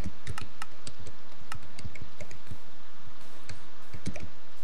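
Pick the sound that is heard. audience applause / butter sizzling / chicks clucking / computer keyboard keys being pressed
computer keyboard keys being pressed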